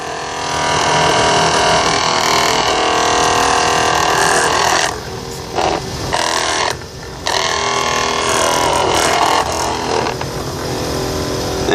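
A 12-volt pump runs steadily while a battery recharges, giving a loud, continuous motor hum and whine with a few brief dips in level partway through.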